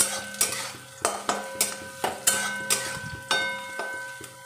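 Chicken frying in oil in a pan while a spoon stirs it, with a bright sizzle underneath and regular metallic scrapes and clinks against the pan roughly every half second, close and clear with no talking.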